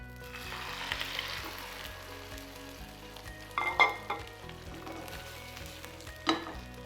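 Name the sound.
egg tortilla frying in oil on its second side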